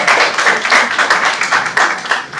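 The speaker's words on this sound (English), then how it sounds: "Please clap for me." A loud, close audience claps for the moderator of a senior high school quiz-style show, with dense, continuous clapping in pulsing waves throughout.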